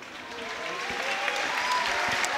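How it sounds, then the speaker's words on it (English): Crowd applause for both fighters after a combat sports bout at a fight event, a broad steady roar of clapping and cheering that swells slightly, with a few faint voices mixed in. "a huge round of applause for both fighters this evening"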